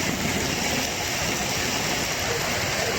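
Heavy thunderstorm rain pouring down over the city of Fujairah in the UAE, a loud, steady broadband hiss like a waterfall, unbroken throughout with no talk over it.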